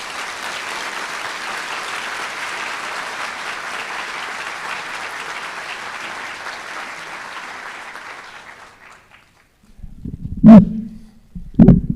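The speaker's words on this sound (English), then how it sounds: "please give him a thunderous round of applause" An audience at a veterinary school white coat ceremony gives sustained, roomy applause for about eight seconds before it fades to near silence, and a speaker's voice then starts in short bursts.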